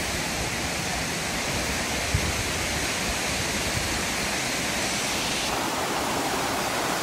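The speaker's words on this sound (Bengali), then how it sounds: "পাশে দিয়ে যাচ্ছে জলটা, এদিক থেকে নিচে নেমে যাচ্ছে।" Phe Phe Falls near Shillong gives a continuous, loud, broadband roar of rushing water, close and steady throughout with no pauses and no talking.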